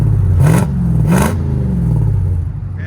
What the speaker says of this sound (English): You can hear the whine now with the supercharger.